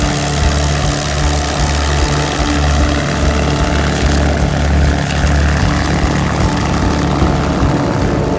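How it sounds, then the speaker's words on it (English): A propeller warbird such as a P-51 Mustang at an airshow, its heavy piston engine droning loud and steady with a deep rumbling throb that persists throughout, without voices. "thunderous Warbirds flying overhead, or a P-51 Mustang taxiing right in front of us"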